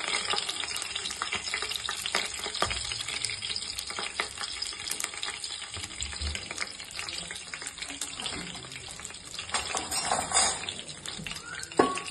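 Cumin, shahi jeera and green chillies fry in hot oil with a loud, dense, steady sizzle and crackle, stirred now and then with scraping sounds, close up and with no voices.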